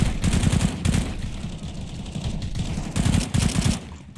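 Automatic gunfire in Counter-Strike: Global Offensive, loud repeated bursts of rapid shots in two clusters with brief gaps, heard alone without talking.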